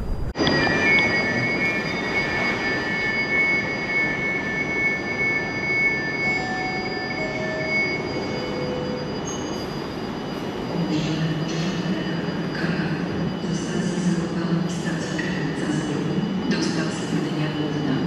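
A PKP Intercity DART passenger train runs steadily, heard from on board as a loud continuous rumble with occasional high wheel tones and shifts in the noise, while voices murmur underneath.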